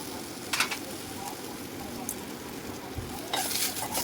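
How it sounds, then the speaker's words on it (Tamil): Onions, tomatoes and green chillies sauté in a pan for capsicum chutney, a steady soft sizzle with occasional spoon stirs and scrapes, close and fairly quiet. "அப்புறம் தக்காளி சேர்த்துக்கோங்க. சேர்த்துட்டு நல்லா வதங்கணும்."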